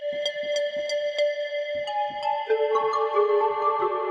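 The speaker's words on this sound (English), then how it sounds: "which gives me like a bell sound" Synthesizer sounding inharmonic, bell-like tones: a series of struck pings with stacked, slightly clashing overtones, decaying then sustaining into shifting chords, clear and alone with no talking.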